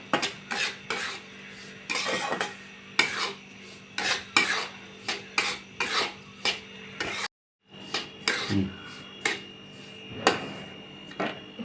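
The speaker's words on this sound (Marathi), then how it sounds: "दोन मिनटं आपण असा मंद आचेवर भाजून घेऊया रवा बघा कसा फुललाय आता" Semolina roasting in a little ghee over low heat, stirred steadily in a pan. Repeated rasping scrapes of a spoon against the metal come in a quick, regular rhythm, close and fairly loud, with one brief pause.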